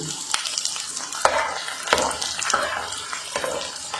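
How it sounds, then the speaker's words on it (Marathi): Edible gum (dink) frying in a pan for laddoos, with steady sizzling and repeated spatula scrapes as it is stirred and puffs up, close and fairly loud. "व्यवस्थित असं परतून छान डिंक फुलूपर्यंत त्याला व्यवस्थित हे करून घ्यायचं आहे, तळून घ्यायचं आहे"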